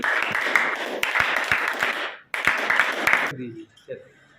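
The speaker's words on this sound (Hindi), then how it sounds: "चलिए बजाओ ताली बच्चे।" Children at a National Service Scheme camp in Palera, Tikamgarh, clap together in a close, lively burst that stops briefly, resumes, then ends abruptly, with an adult voice speaking around it.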